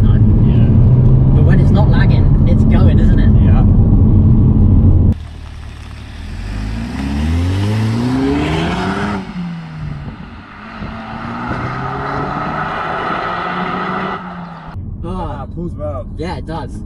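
A stock Vauxhall Astra VXR hot hatch accelerates with noticeable turbo lag, its engine note climbing through rising sweeps and gear changes from inside the cabin, loud and close, with people talking between pulls.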